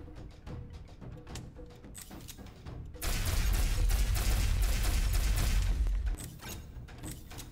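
Sustained burst of heavy assault rifle fire in the sci-fi shooter Osiris: New Dawn, a dense loud roar lasting about three seconds after quieter game ambience and clanks, then fading back.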